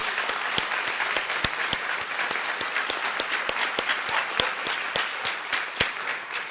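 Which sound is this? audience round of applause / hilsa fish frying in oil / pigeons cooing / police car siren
audience round of applause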